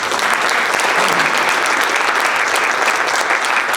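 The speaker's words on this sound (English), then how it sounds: "Brittany Welch-Pills and her husband Justin a round of applause for assembling that video." An audience at a celebration of life gives loud, sustained applause, a dense, even wash of many hands clapping without a break across the whole stretch.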